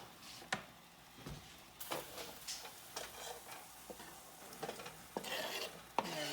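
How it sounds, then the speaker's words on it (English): Chopped tomatillos for green chili stirred in a pot: a close, uneven run of wet scraping and clattering strokes with soft tapping, a few sharper knocks against the pot, and no talking. "Give those a little bit of a stir."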